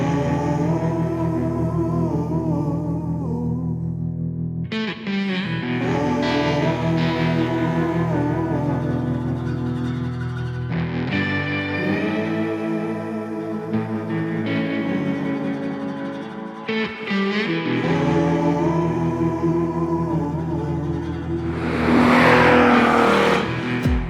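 Cadillac CT4-V Blackwing accelerates hard through repeated no-lift shifts, each gear a rising engine howl cut by a quick bark before climbing again, loud and close with a brief burst of roar at the end.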